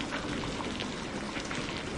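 Steady rain falling through a dark night, a soft continuous hiss of drops pattering on surfaces, even and unbroken throughout.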